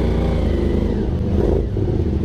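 Motorcycle engine revving on a group Sunday ride among a WR 155, a Gazgas 250 and a KLX, a loud close rumble that swells in a brief rev, with no talk over it.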